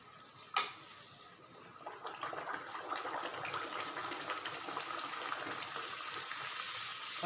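Puris dropped into hot oil on a full gas flame set off a sharp splash, then a steady, dense sizzle and bubbling that holds fairly loud and close for several seconds, with no talking.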